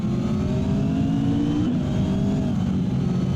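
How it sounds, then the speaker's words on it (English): On-board engine of a McLaren 720S GT3 race car at Spa-Francorchamps, a loud continuous roar with rising pitch as it accelerates, a brief dip around a shift, then climbing again. "Here we are on board with McLaren 720S GT3 past that V8 Vantage."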